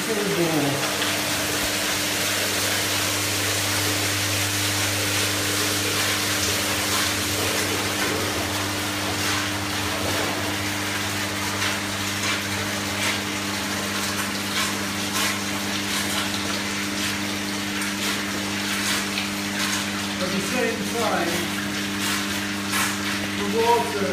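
A pump-fed Compact Eric Filter system runs water at full bore, giving a steady rushing, gushing flow over a constant pump hum, with a voice talking over it throughout.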